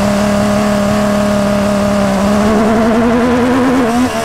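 An MV Agusta Superveloce 800 motorcycle launches in first gear at full throttle. Its loud, close engine note holds steady and then climbs sharply in pitch toward the end, with no talking.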